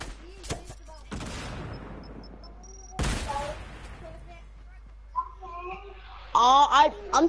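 Gunfire in a role-play shooter game: sharp, loud shots arriving in separated bursts, with short electronic tones and chirps between them and near the end.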